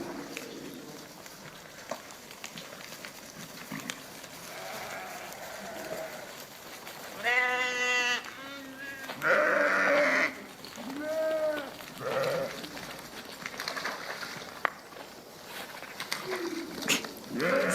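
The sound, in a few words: sheep bleating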